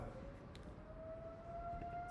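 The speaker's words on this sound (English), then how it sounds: "the tornado sirens are going off in Dallas right away" A tornado siren wails in Dallas, a steady, slowly rising tone heard faint and distant over a low background rumble, with no talking.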